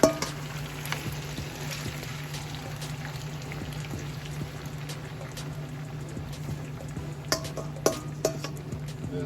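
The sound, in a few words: brown stew chicken vegetables and veggie stock simmering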